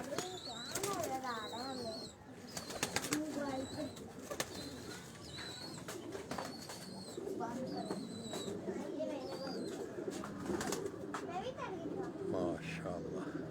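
Flying pigeons of the Pipla bloodline coo softly nearby among wing flaps and rustling, while someone talks over them and a voice is faintly heard.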